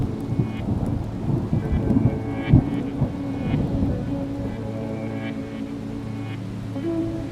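Steady heavy rain pours down during a thunderstorm, with rolling thunder rumbling near and far throughout and drops spattering on surfaces.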